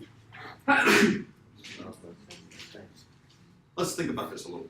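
In a physics lecture hall, a sharp sneeze bursts out near the start and another loud burst follows later, breaking up a lecturer's ongoing talk.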